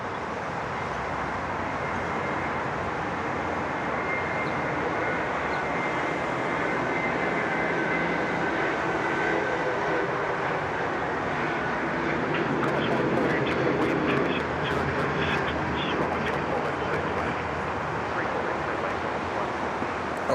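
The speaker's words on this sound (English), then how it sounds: "A long takeoff, that one." A jet takes off at Sydney Airport, a long, loud, steady roar heard from the control tower that fills the whole stretch without a break.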